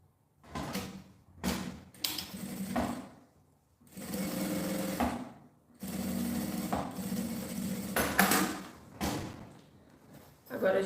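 A sewing machine stitches the seam of a toiletry bag's patterned lining in several separate bursts of steady mechanical whirring, close and fairly loud, with short pauses and thumps between runs.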